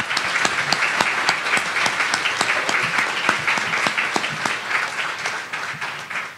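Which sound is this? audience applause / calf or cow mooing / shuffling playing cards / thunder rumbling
audience applause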